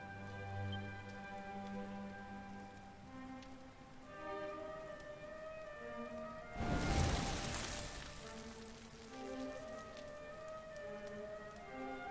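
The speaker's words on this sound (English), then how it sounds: "Looks like the rain's dying down." Rain hisses steadily in the Dragon Quest XI video game beneath soft tonal background music, swelling into a heavier downpour burst midway before easing back, with no speech.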